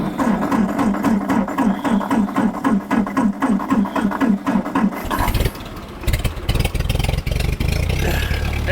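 A 1949 Ford 8N tractor engine runs in a fast, even putter, then sputters and roughens as it is choked, ending in uneven bursts and clatter.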